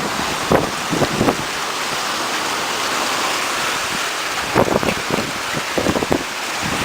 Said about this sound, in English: Hail now, hail.